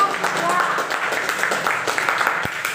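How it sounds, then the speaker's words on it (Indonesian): Classroom applause for a student group after their presentation, a moderate patter of many hands clapping at once, mixed with voices talking over it. "Tepuk tangan dulu untuk kelompok 2."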